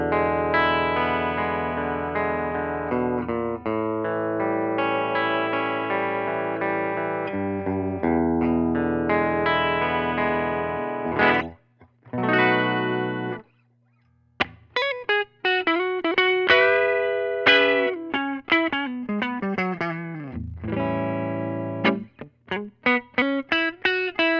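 Electric guitar runs through a Line6 Helix stock cabinet with 10-inch speakers, playing sustained chords and then quicker picked melodic phrases with a few brief pauses, steady and fairly loud, with no voices.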